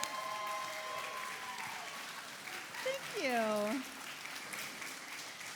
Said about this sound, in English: Let's give another huge round of applause for the film